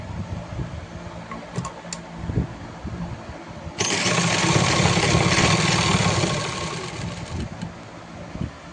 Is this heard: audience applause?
no